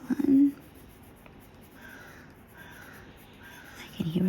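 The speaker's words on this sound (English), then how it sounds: "I can hear a bird crowing outside." A crow caws outdoors in a residential neighborhood, two short harsh calls near the start and a couple more at the end, fairly faint and distant, with quiet indoor ambience and occasional soft scratching between them.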